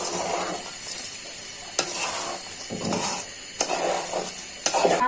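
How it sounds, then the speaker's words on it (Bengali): Rice being fried with spices for bhuna khichuri sizzles steadily while a spoon stirs and scrapes the pot, with a few sharp clinks standing out against the continuous frying hiss. "মশলাটা সহ চাউলটা সুন্দর করে মিক্সড হয়ে গেছে, ভাজা হয়ে গেছে।"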